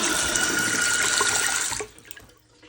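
Water pours steadily down a partly blocked sink drain, loud and close, then cuts off abruptly and leaves a few soft drips and gurgles.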